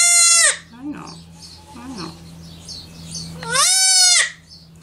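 A young goat bleats loudly in two long, strained cries at the start and near the end while being disbudded on a farm, with quieter bleats and a steady low hum between them.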